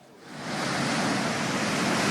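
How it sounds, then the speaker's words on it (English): Big ocean waves break at Brindha Beach, a rising, roaring wash of surf that swells over the first half second and then holds as a steady, loud rush. "Big waves."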